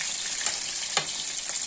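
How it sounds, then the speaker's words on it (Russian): Leftover fish fries in a pan with a steady, close sizzle, broken by a few soft clinks and stirring scrapes, without speech. "жарит остатки вчерашней рыбы"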